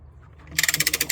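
A hand ratchet is cranked to lift a skid steer track, first a few muffled knocks, then a rapid run of about a dozen sharp metallic clicks in a steady rhythm, close and loud.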